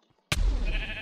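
A homing sheep in a Minecraft Hypixel game bleats once, a sudden, fairly loud bleat that starts after a brief silence and trails off.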